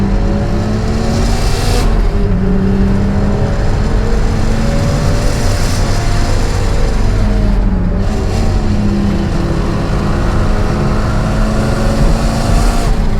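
A turbocharged Mazda MX-5 accelerates uphill on the Nürburgring, its engine droning loud and close in a continuous in-car roar with rising and falling harmonic pitch, two brief dips around gear changes, and no talk.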